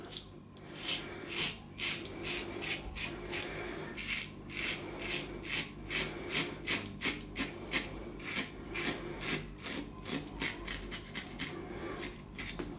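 A Parker adjustable injector razor cutting stubble during an against-the-grain pass, giving close, rhythmic scratchy rasping strokes that repeat steadily at moderate volume.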